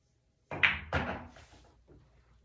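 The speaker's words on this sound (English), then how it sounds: "if we have a straight shot would be a stop shot" In a billiards stop shot the cue tip strikes the cue ball, which then hits the object ball straight on. Two sharp close clicks a fraction of a second apart, followed by a faint later knock in a quiet room.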